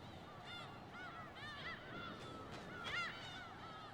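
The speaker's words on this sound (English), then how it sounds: "Same ass fucking seagull sound effect" Seagull sound effect in the video game Pragmata: a rapid run of honking, squawking gull calls layered over each other, fairly faint against a soft background hiss, with no voices, lasting a few seconds.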